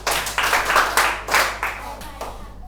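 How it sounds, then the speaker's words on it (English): A classroom of students claps for themselves during a math lesson, a short burst of scattered, uneven hand claps close by that rises and tapers off over a couple of seconds. "Clap for yourselves."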